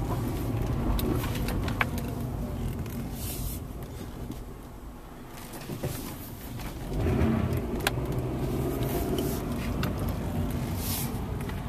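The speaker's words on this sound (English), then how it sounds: "The car is running right now." A 1998 Honda Accord four-door automatic with about 194,000 miles idles steadily with a low engine rumble, heard from close by, with a few small clicks and rattles on top.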